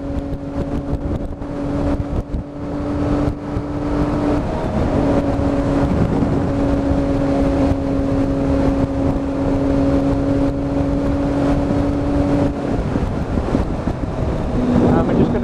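A Triumph Daytona 675 motorcycle cruising at a steady 70 mph, its engine holding an even drone beneath strong wind buffeting, with a slight pitch shift partway through.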